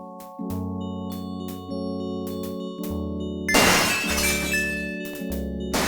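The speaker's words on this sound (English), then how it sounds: "Gabriel hears the faint sound of breaking glass." Glass shatters in the 1993 PC adventure game Gabriel Knight: Sins of the Fathers, a sudden bright crash with tinkling fragments breaking through a steady synthesized music score and then falling away.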